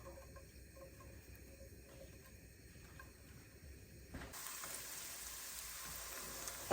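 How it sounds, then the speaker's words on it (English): Onions sautéing in warm olive oil for pepperonata, a soft steady sizzle that grows brighter and louder partway through as the oil picks up, with no talking. "I think we're going to saute the onions first, but I've got to get the oil warm."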